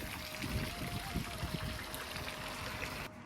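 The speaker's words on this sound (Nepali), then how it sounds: "यहाँ चाहिँ अघि नचलेको ठाउँमा चाहिँ यसरी पानी आउँदो रहेछ।" Water runs steadily at a Hindu temple during Shivaratri, a continuous close trickling and gurgling stream that fills the scene for a few seconds, with no voices heard.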